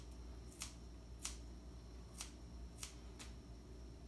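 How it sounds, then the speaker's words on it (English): Five sharp, crisp snips of kitchen shears cutting red fox fur, spaced about half a second apart, quiet and close, over a faint low background hum. "we'll take our scissors here."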